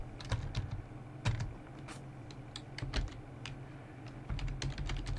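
Typing on a computer keyboard, close and fairly clear: irregular bursts of key clicks with short pauses between them, with no voices.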